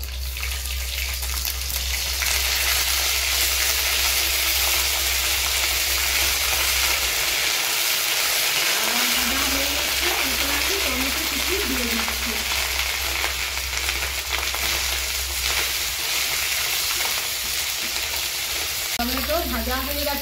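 Tomatoes and ginger paste fry in a pan with a continuous, bright sizzle, broken now and then by stirring scrapes, close and steady throughout.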